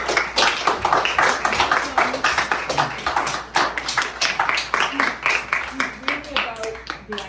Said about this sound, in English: I really do want to have a round of applause for Phil